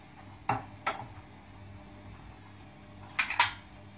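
A metal utensil clinks against a cooking pot while rice is stirred, with two sharp taps, a pause, then a quick cluster of scraping clinks, close and fairly quiet.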